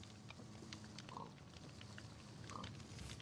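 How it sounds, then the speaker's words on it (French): A cold-climate pig variant in Minecraft oinks twice, brief nasal grunts about a second apart over steady game background noise and faint music. "Parce que j'ai un cochon... cochon des pays froids là."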